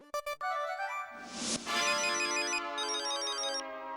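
A phone rings loudly when a call is placed to a fruit supplier, a bright melodic electronic ringtone that plays alone after a few short opening beeps.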